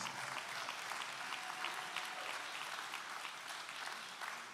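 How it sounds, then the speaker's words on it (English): A crowd applauds Jesse Jackson at a labor gathering, a broad continuous wash of clapping that holds at an even level from start to finish, heard alone without any talking. "Let's give him another big round of applause."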